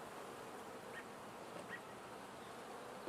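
Honeybees hum steadily at the hive, a faint continuous buzzing drone with a couple of individual bees briefly passing closer.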